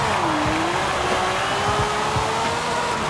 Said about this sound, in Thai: เสียงโคตรเล้า V12 นะครับจากทาง Lamborghini